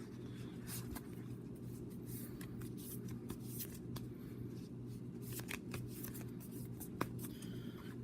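Tarot cards shuffled by hand for a pick-a-pile reading: soft, quick riffling and sliding flutters in short bursts over a steady low hum, faint and close, with a sharp tap near the end.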